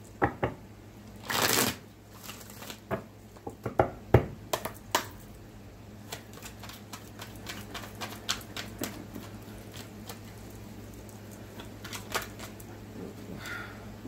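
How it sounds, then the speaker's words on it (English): Tarot cards are shuffled with a brisk riffle, then laid out one by one in a quiet room. Soft, irregular taps and slaps follow the shuffle, faint and close, with no speech. "Clarify these cards in the order that they are laid out, please."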